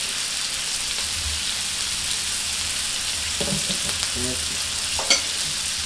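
Lemon sockeye salmon sears in a Toastmaster frying pan, a steady close sizzle and crackle with a few scraping stirs of a utensil against the pan.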